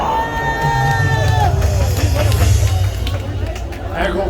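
Large outdoor crowd at a patriotic political rally in Gwanghwamun, Seoul, clapping and cheering loudly and continuously, a dense roar of applause with scattered whoops and voices throughout.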